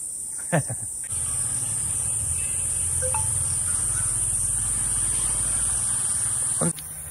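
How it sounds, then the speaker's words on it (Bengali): Crickets by a roadside give a loud, steady high-pitched drone that holds unbroken through the middle of the stretch, close by, with a low rumble beneath and a couple of brief knocks at the start and end. "ঝিঝু পোকার ডাক শুনতে পাচ্ছ?"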